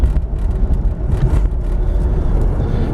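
Cabin sound of a 1999 Jeep Grand Cherokee Laredo 4x4 decelerating on a road test drive, a loud continuous low road and engine rumble with steady tire noise, no speech.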